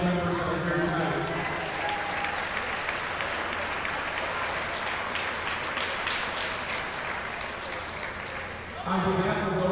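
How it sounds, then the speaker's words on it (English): An audience at a Notre Dame College Prep basketball night applauds previously inducted Wall of Fame members, with sustained, moderately distant clapping across the gym. A voice speaks over a PA briefly at the start and end. "Please give a round of applause for our previously inducted Wall of Fame members that are here tonight"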